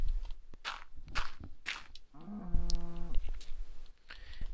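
A cow in the video game Minecraft moos once, a drawn-out low call that sits clear and close after a couple of soft blocky footsteps.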